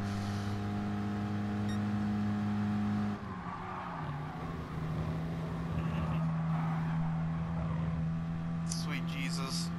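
A Volkswagen Samba bus drives in the racing game Gran Turismo Sport, its engine giving a steady droning tone with a shift in pitch partway through, heard under a person talking.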